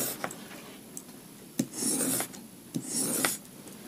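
A small drill bit's cutting edge is hand-sharpened against an abrasive in short rasping strokes, a few quick scrapes followed by two longer grinding passes, close and clear with no talking.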